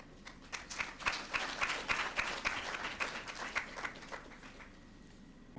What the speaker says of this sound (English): the applause speaks for itself